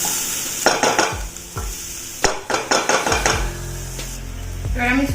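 Capsicum and a pinch of salt stirred in a hot pan, with a utensil scraping and knocking against the metal in repeated strokes over a steady sizzle that swells louder toward the end.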